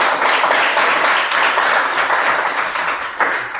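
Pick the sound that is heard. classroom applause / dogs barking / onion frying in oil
classroom applause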